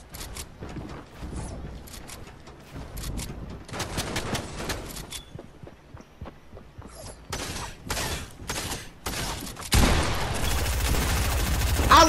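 Gunfire rattles through a Fortnite Chapter 2 battle, with bursts of rapid shots and single cracks. The shooting comes in clustered volleys, then turns into a loud, dense barrage near the end.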